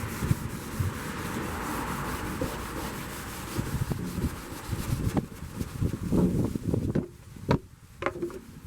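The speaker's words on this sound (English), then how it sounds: "I'm not going to scuff this black a whole lot. I'm going to go over it" Red Scotch-Brite pad scuffing over black paint on a rusty metal surface, a steady close rubbing and scraping that runs throughout, with a few sharper strokes near the end.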